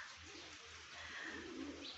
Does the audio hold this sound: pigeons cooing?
yes